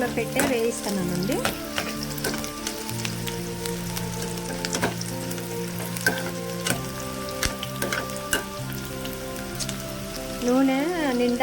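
Bitter gourd frying in oil over medium heat gives a continuous rain-like crackle with occasional sharper spits, steady and close, while a droning tonal hum carries on beneath it.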